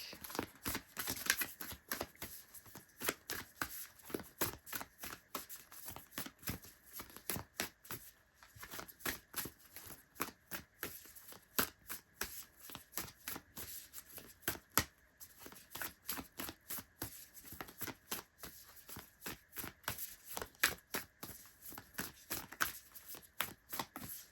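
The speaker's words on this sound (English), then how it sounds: "I'm also going to get you guys an oracle card from the Moonology deck" Moonology oracle cards are shuffled continuously for a long stretch, a close, quiet run of rapid riffling flutters and soft slaps in steady bursts with no talk.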